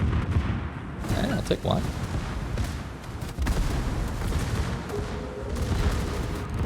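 Battleship gun turrets fire in World of Warships aboard the tier 9 Karl XIV Johan, with deep booms and rumble rolling under a speaking voice that talks throughout.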